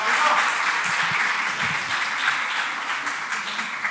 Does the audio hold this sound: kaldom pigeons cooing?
no